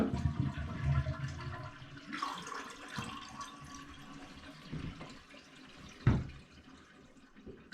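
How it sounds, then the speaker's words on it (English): A household toilet with its tank lid removed is flushed to drain the tank. A close gurgling rush of water swirls and drains, and a few sharper splashes and knocks follow as the flow settles. "Go ahead and empty it by flushing."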